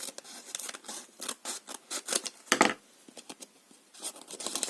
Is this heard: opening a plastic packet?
yes